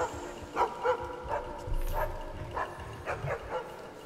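Dog in the video game Assassin's Creed Chronicles China giving a few short, fairly faint barks and yips at irregular intervals over a low game background.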